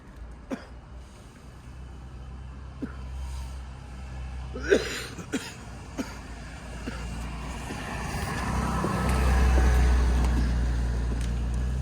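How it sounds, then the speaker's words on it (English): A car drives through a yard at night, its engine rumbling faintly at first and then swelling louder and closer toward the end, with a few scattered coughs and small knocks along the way. "car will drive through to light up the yard"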